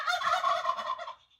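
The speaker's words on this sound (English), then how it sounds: "Turkeys! Turkeys! Turkeys!" Turkeys gobble in a dense, rapid rolling chorus for just over a second, fairly close and loud, then trail off into quiet.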